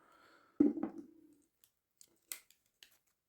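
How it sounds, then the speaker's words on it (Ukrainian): A couple of sharp metallic snaps as the liner-lock blade of an Active Launch 1 multitool opens and locks, followed by a few faint, scattered clicks in a quiet room. "Замок у нього є, лайнер-лок. Можна от відкривати, закривати однією рукою."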